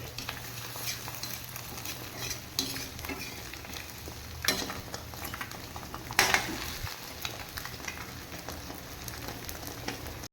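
Beaten egg frying as an omelette in a pan for egg rice, a constant sizzle of oil with occasional spatula scrapes and a couple of louder clatters, heard close with no voices.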